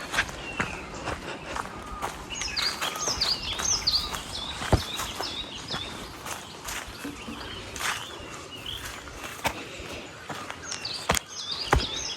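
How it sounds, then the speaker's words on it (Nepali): Birds chirp in short repeated calls, moderately distant, while footsteps crunch and shuffle nearby outdoors. "चराचुरुङ्गी गराएको सुन्नु न कति मिठो यो आवाजहरू"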